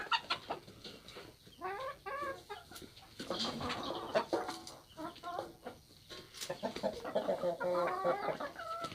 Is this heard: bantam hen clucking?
yes